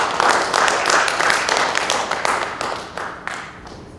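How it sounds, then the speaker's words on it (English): Applause from a conference audience: a small crowd claps fairly close and clear, fading gradually over a few seconds with individual claps standing out near the end. "So huge round of applause for Pradeep."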